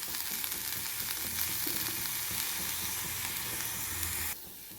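Fresh washed coriander leaves sizzle steadily in a hot pan of oil, a continuous close frying hiss with faint stirring, dropping off sharply near the end.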